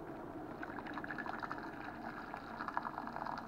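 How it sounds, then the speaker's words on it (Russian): Freshly boiled water pours from a kettle into a container while making fishing groundbait with ground peas and millet. It gives a soft, bubbling, gurgling trickle that runs steadily and fairly quietly throughout. "Мы нальем воды сюда."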